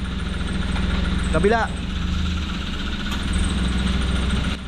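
A Kia Sportage engine idles with a knocking fault, a steady, loud, close-up mechanical drone running throughout, with one brief shout from a voice near the start.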